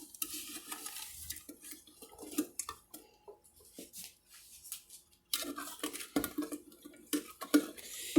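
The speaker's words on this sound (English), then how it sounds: "Now, I'm just going to stir that super well." A sugar mixture for holiday baking is stirred with a wooden or plastic spoon, producing intermittent soft scraping and knocking against the bowl in uneven bursts, fairly quiet and close, with no voices.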